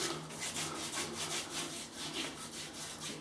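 Hands rubbing pre-shave oil into a beard, a close, quiet, scratchy swishing that repeats in a steady back-and-forth rhythm.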